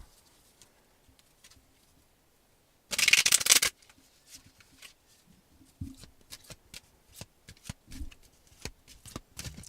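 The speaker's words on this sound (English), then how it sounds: "One more shuffle." A quick riffle of playing cards, a tarot or oracle deck being shuffled for a reading, bursts out in the quiet, followed by soft handling and tapping of the cards.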